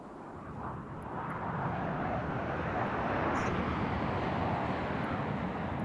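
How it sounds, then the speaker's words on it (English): CSAT military planes in a video game pass as a steady broad engine roar that swells slightly and holds, loud and continuous with no talk. "I'm gonna throw up some CSAT planes"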